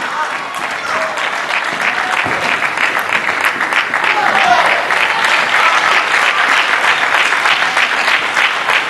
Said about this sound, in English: There's a lot of applause going on for other games.